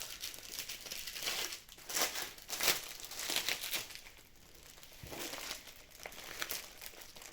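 Close, crisp crinkling and rustling of a plastic bag in bursts as cross-stitch fabric is pulled out and unwrapped; no speech.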